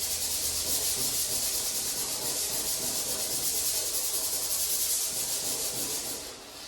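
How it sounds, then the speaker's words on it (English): Steady abrasive scuffing of a small rust spot on a 1967 Chevy Nova steel body panel, continuous close rubbing strokes with no talk, easing slightly at the end. "kind of give that a quick scuff"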